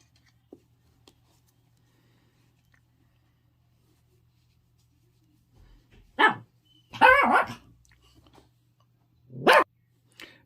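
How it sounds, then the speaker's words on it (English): Moose, a puppy, gives a few sharp barks and yips in short bursts after a quiet stretch, close by in a still room. "My puppy is hearing noise outside of the room, so Moose is deciding to bark."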